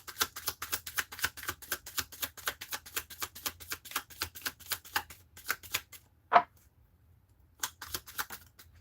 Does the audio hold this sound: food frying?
no